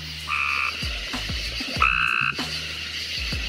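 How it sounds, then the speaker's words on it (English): Frogs croaking at night outdoors, repeated deep low croaks in an uneven rhythm from nearby, mixed with higher trilling calls from other frogs in the background. "trying to go out and record frogs at night."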